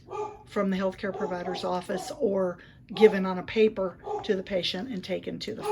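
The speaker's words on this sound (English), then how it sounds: "Excuse my barking dogs." Dogs bark repeatedly in the background, mostly buried under continuous close talking, with yips breaking through between phrases.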